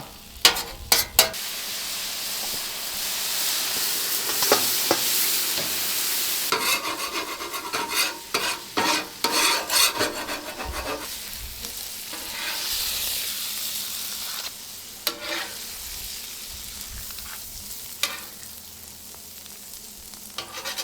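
Garlic butter sizzles on a Blackstone griddle beside steak and lobster, a continuous close hiss broken by scraping spatula strokes and clicks, without any talking.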